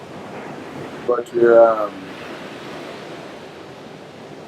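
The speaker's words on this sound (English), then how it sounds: "a nice, soothing background song that you hear is from the waves" Ocean waves wash steadily onto a beach in Mexico, a continuous broad surf roar with some wind, while a person briefly speaks over it near the start.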